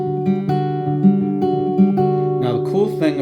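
Travis-style fingerpicking on an acoustic guitar, with an alternating thumb bass under ringing treble notes in a steady rolling pattern, close and clear, then a brief spoken voice at the end.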